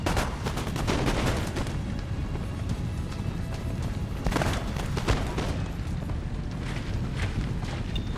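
Musket volley fire in the Empire Total War video game, Ottoman campaign battle, with dense crackling gunshot bursts near 0 and 4.5 seconds over a steady roar of battle noise and hoof-like clatter.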